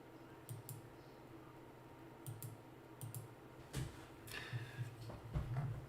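Light typing on a computer keyboard during a live day-trading session, quiet clusters of quick clicks in short bursts over steady background hum.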